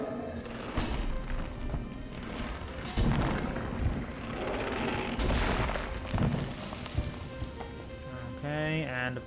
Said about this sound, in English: Okay, and a big explosion.